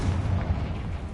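A Confringo blasting spell goes off in Hogwarts Legacy, a dense, booming burst that fills the whole moment with heavy low rumble, loud and close.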